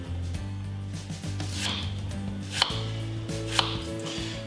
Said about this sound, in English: So these want peeling and then slicing into 1/4 inch slices.